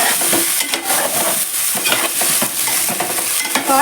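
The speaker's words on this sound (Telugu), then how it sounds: "ఇలాగే మంచిగా మనము వంకాయలని వేయించుకోవాలి." Whole brinjals frying in a pan of oil for biryani, a steady close sizzle with scraping stir strokes throughout and no talking.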